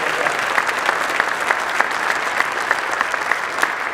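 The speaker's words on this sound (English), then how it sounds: "Let's give Admiral Ryan a round of applause for his commitment" Steady audience applause fills a Naval Academy campaign launch gala, dense and even, with sharper individual claps popping out at a regular pace throughout.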